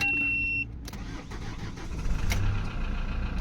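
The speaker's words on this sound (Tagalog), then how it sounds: "Engine start." A warning chime stops, then a 2014 Hyundai Grand Starex's D4CB diesel engine, suffering low power and heavy black smoke, cranks briefly and fires up, settling into a rough, rattly idle nearby.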